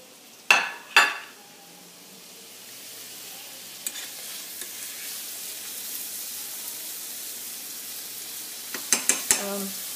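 Chicken for wraps cooks in an aluminum pan with a quiet steady sizzle, opening with two sharp metal clanks and ending with a quick cluster of utensil taps against the pan.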